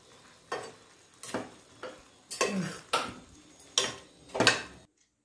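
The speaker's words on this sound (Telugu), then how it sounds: "చివరగా కొత్తిమీర వేసుకొని కలుపుకుంటున్నాను।" A spoon stirs mushroom curry in a pot after coriander is added, giving seven separate scraping strokes at a steady rhythm, close and fairly quiet, with no voices.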